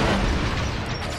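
Homing missiles explode in Banjo-Kazooie: Nuts & Bolts, a loud, dense, rumbling blast that fills the whole moment with booming low-end noise.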